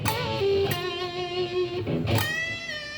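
A melodic lead line on guitar, a diatonic lick, with sustained notes and slides ringing out clearly and alone.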